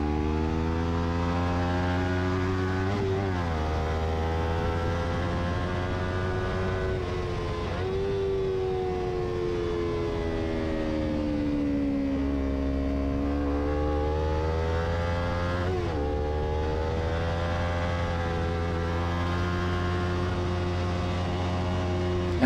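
A Formula 3 racing motorcycle engine screams through a track race, its pitch rising and falling smoothly through gear shifts under precise throttle control, loud and continuous throughout.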